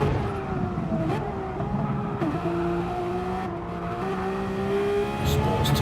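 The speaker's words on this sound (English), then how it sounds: "Sports tyres, you can hear squealing around some of these corners" Porsche 911 GT3 RS engine droning steadily through corners in a racing video game, with faint tyre squeal mixed under the continuous engine note and a commentator's voice over it.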